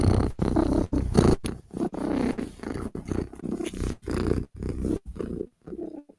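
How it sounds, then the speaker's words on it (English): A contented house cat purrs up close in a steady rumbling rhythm, the sound pausing briefly every second or so between breaths, with no talking over it. "Because the cat is purring."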